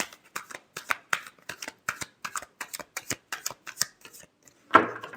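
Tarot cards are shuffled by hand in a quiet room, a rapid series of crisp riffling snaps that ends with a single louder slap.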